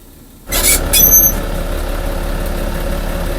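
A manual truck's tractor air brake is tested and held while the engine idles steadily and loudly; a sudden burst of hissing air with brief high squeals begins, then gives way to a constant engine rumble.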